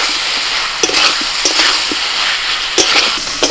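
Spices being stirred and fried in a pan in an outdoor paddy-field kitchen, a loud continuous sizzle with irregular scraping knocks from the stirring utensil scattered through it.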